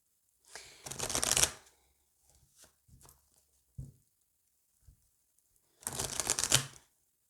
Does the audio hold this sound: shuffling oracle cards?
yes